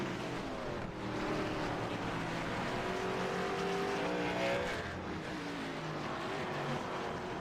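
Race cars roar steadily around The Glen in a racing video game, a continuous dense engine drone at moderate level with overlapping pitches and no talk.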